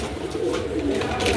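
Pigeons at a stall selling pigeons, cooing in a dense, continuous low burble that swells slightly toward the end, nearby and fairly loud.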